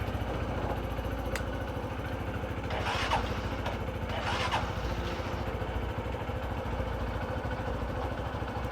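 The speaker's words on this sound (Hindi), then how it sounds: "थोड़ा सा थ्रोटल देता हूँ। स्टार्ट कर लेते हैं प्लेटिना को।" A Bajaj Platina 110 motorcycle engine is started and settles into a steady, fairly quiet idle, a constant low chugging close by, with a couple of brief throttle blips adding short rises partway through.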